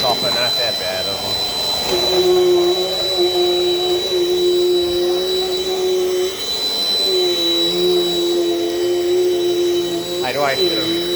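A Dirt Devil Dynamite Plus vacuum cleaner runs steadily and loudly for the whole stretch, a sustained whine with a strong tonal hum and slight pitch wavers as it is pushed around indoors.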